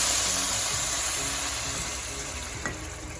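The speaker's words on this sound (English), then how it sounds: "we can go ahead and add the 2 cups of hot water" Hot water hits rice frying in a pan for vegetable pulao, a loud hissing sizzle that slowly settles, with a brief clink partway through and no talking.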